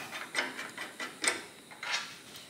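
Bolts being tightened through a fabricated hardtail rigid frame on a Harley-Davidson chopper, a series of light metallic clicks and ratcheting ticks, close by, with an irregular rhythm and no talking.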